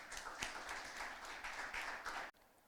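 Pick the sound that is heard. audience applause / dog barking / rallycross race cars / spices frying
audience applause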